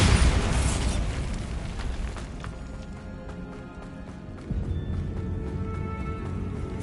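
A Bombarda spell blast in Hogwarts Legacy, a loud booming explosion that rumbles and fades over a couple of seconds, followed by a second lower burst and scattered debris rattling.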